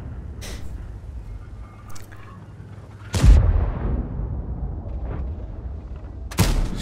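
T110E5 tank gun in a video game, one heavy booming shot near the middle, with fainter impacts or shots around it over a low rumble, no speech.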